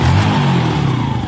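A Yamaha Jupiter Z1 motorcycle engine runs steadily at close range, with a smooth low idle-like hum and no speech over it.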